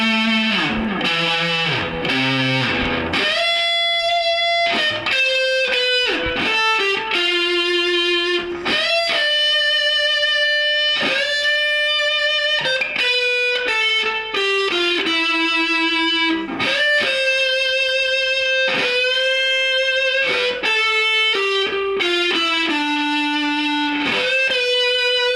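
Electric guitar plays the first solo of a song, sustained distorted notes with bends and a light echo, loud and continuous with no talking.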